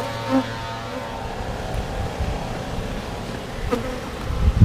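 Honeybees buzz around an open hive during a December inspection, a steady low drone of many insects holding close and continuous throughout, with a few brief louder swells.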